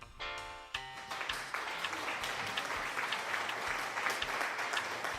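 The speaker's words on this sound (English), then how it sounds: "Can you hear the applause of Goat vs. Fish?" Applause rises after a brief tonal sound at the start, then settles into a steady wash of many clapping hands with some low thumps underneath.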